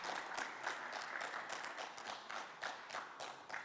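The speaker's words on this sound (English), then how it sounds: "Let's give them a round of applause." An audience at the Miss Indian 2021 pageant show applauds, a soft, steady wash of many hands clapping heard at a distance, with no voices over it.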